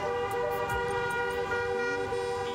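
Taxi horns blare together in a street protest in Córdoba, a continuous layered honking with several overlapping tones, loud and sustained throughout with a few short toots on top.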